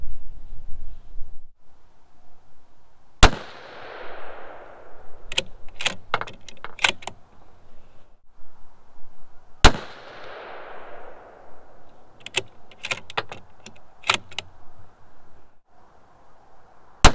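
Two loud .308 rifle shots at a 100-meter range, each a sharp crack followed by a long fading echo, then clusters of metallic clicks and clatter from working the action.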